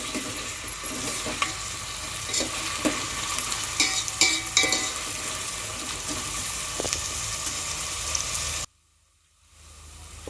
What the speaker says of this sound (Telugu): ఉల్లిగడ్డలు వేసుకొని ఇలా కొంచెం మగ్గించుకుందాము